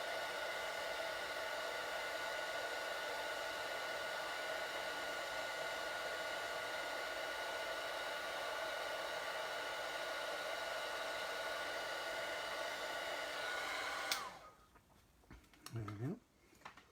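Heat tool blowing hot air over a craft piece for about fourteen seconds, a loud steady whooshing hiss that cuts off abruptly, leaving a few faint clinks and rustles.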